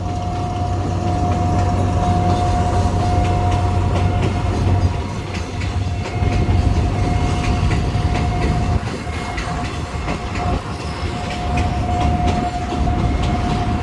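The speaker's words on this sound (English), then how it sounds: "And as you can see, you still have freight trains coming through." A freight train rolls past on tracks leading to the port in Bangkok, a steady loud rumble with rhythmic wheel clatter and a sustained tonal whine, heard alone without voices throughout.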